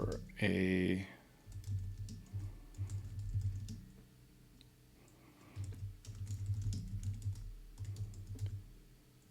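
Someone types a prompt into ChatGPT on a computer keyboard, producing steady bursts of quick, close keystrokes after a brief loud tone at the start, with no talking.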